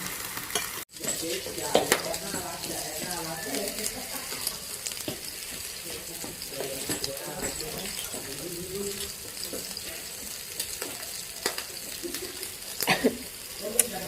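Pork belly frying on a Thai grill pan gives a steady, close sizzle with crackling splatter pops throughout, while people talk over it.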